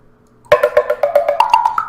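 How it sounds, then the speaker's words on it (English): Crisp, hollow wooden knocks struck in a quick steady series, about a dozen hits close up, following a brief quiet start. "Wood block."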